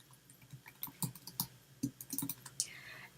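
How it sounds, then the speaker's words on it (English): Quick, light taps on a computer keyboard as a short word is entered, a close, irregular patter of clicking keystrokes with brief gaps, alone without talk. "I'm going to type Nipissing"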